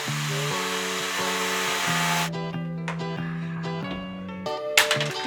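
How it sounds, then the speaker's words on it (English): An angle grinder cuts off roof bolts on a Troopy build, a steady loud whining drone with a harmonic tone that shifts pitch and then changes to a harsher metallic grind, with a few sharp clanks near the end. "I'd rather not use a grinder, but I might have to."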